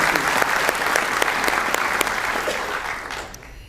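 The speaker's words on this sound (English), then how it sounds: "please, another round of applause for Trey for that beautiful welcome to count" Sustained audience applause following a welcome to country at a community talk in Gippsland, many hands clapping steadily and loudly before tapering off near the end.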